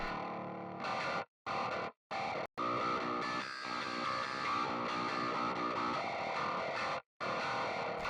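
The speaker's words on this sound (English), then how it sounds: "this is just through the amp, so just some mega distortion coming out" Heavily distorted bass tone blares through an amp in loud bursts, cut by several abrupt silent gaps, harsh and buzzy throughout.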